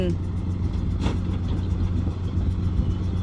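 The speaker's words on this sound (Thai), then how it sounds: "ไปไม่ได้แล้ว ต้องเอารถมาช่วยดึง" A vehicle engine strains with a steady low rumble while pulling a stuck car free, continuous and fairly loud throughout with faint voices mixed in.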